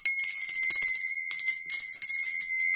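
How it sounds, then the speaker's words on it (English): A small hand bell rings rapidly and continuously indoors, its bright, high-pitched metallic tone loud and close, jangling in quick repeated strokes with a brief pause midway. "I didn't ring my lovely lady bell. Let me do that right now"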